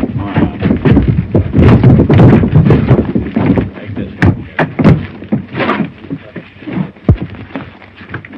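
Horses' hooves clip-clop in a busy, uneven rhythm, with scuffling and clatter close by and a brief voice mixed in.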